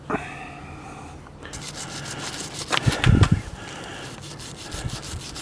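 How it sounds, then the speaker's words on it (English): A worn wire brush scrubs the mating surface of a Suzuki Jimny's front axle in short, close, gritty bursts, with a louder scraping peak midway and quieter rubbing after. "We'll clean up the mating surface with this knackered little wire brush."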